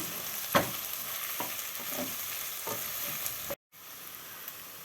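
Meat sautéing with ground ginger and chili, with peas nearby, gives a soft, steady sizzle with a few light stirring scrapes, briefly broken by a short silence near the end.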